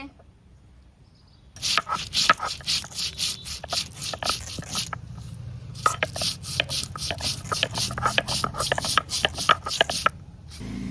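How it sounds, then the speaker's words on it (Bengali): Taro is chopped with a knife in a rapid run of close, crisp cuts against a board, the strokes coming in quick uneven bursts with brief pauses, while a voice speaks faintly underneath. "মা ওইদিকে কচু কেটে নিচ্ছে"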